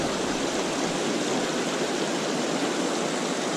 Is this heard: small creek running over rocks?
yes